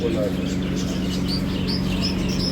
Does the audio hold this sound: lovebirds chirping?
yes